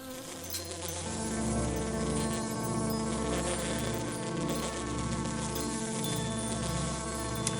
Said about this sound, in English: you're going to hear bees traveling around and collecting certain pieces that they would use to build a hive